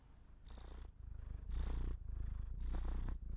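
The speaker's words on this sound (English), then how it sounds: "If you can hear her purrs, that's her stance." A cat purrs steadily and close, resting on a lap beside a gaming setup, the rhythmic rumble rising and falling with each breath over about three seconds, alone with no talking.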